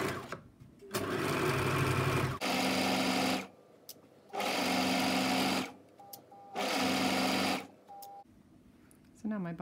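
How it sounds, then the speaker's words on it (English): A sewing machine stitches bias binding along a crease line in three steady whirring bursts of about one and a half seconds each, separated by short pauses, running close and loud. "I'm going to stitch right along that crease line"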